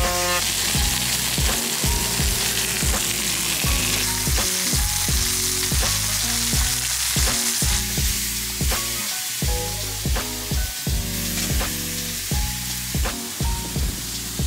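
Fish frying on a tawa griddle at a roadside food stall, loud continuous sizzle with repeated rhythmic scraping and clanking of a spatula on the metal griddle, close and busy throughout.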